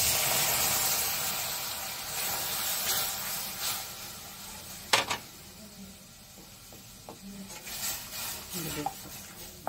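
Milk is poured into roasted semolina in a pan for baby food, producing a steady hiss and sizzle that fades gradually, with a few stirring clinks and spoon scrapes near the end.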